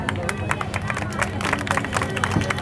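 An audience claps together at a religious gathering, a busy patter of hands mixed with crowd murmur and a voice speaking over it.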